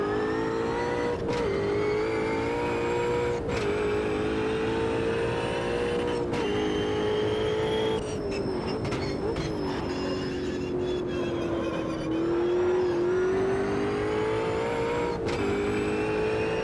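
In Automobilista 2, a race car laps the Nürburgring Nordschleife with a loud, close, sustained engine whine that rises and falls through gear shifts, with sharp clicks at each change and a brief rougher burst midway.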